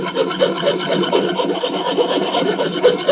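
A coarse rasp strips varnish off a wooden axe handle in quick, continuous scraping strokes, close up and steady with a dense, gritty texture throughout.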